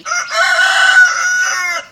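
A single loud, close rooster crow rings out clearly, a sustained cock-a-doodle-doo lasting under two seconds.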